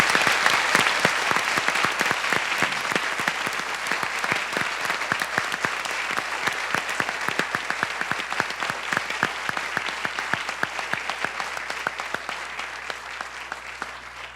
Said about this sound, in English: So join me in a round of applause and thank you.